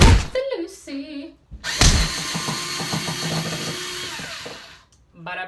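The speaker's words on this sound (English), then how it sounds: "We need a drill." A power drill whirs in short bursts while removing a mirror fixing in a bathroom, close and fairly loud, with a clunk between runs and talk at the start.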